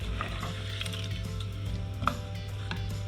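Crispy garlic frying in oil for chilli garlic oil gives a steady, close sizzling crackle with occasional small pops and a faint clink of a utensil, alone without speech.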